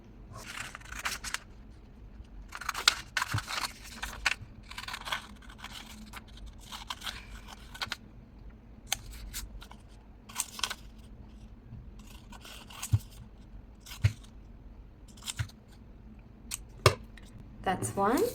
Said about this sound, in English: So I'm just going to go ahead and cut this up.